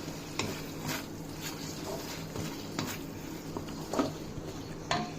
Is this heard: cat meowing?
no